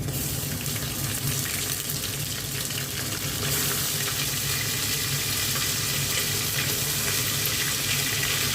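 Ginger garlic paste fries with beef, onion, whole cumin and garam masala in a pan, giving a loud, dense, continuous hiss with no pauses and no voices.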